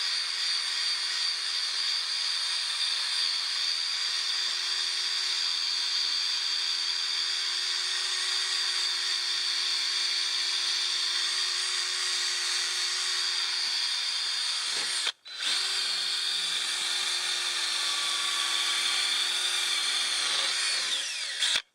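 A Harbor Freight power sander with a 500 grit pad whines steadily while sanding a car headlight in circular motions, running loud and continuous, cutting out briefly once before starting up again, with no voices.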